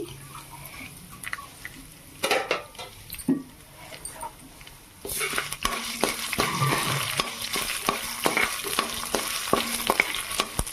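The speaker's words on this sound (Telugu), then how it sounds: "ఈ ప్రాసెస్ మొత్తం సిమ్లో పెట్టుకునే ఫ్రై చేసుకోవాలండి లేకపోతే సరుకులు మాడిపోతాయి" Dry red chillies, about ten of them, fry in a spoonful of oil in a pan over low heat, giving a soft crackle that swells into a busier sizzle with scraping stirs partway through.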